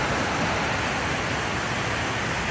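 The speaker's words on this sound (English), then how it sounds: "A lot of water running over those rocks." A creek rushes over rocks in a steady, dense roar of running water, loud and close, with no voices.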